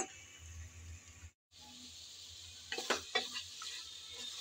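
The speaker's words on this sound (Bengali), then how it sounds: "আমি নেড়ে চেড়ে ভালোভাবে মিশিয়ে নিলাম।" Mutton pieces fry in a pan in a Bengali home kitchen while being stirred, giving a soft steady sizzle with a short gap and then a few louder scraping stirs near the end.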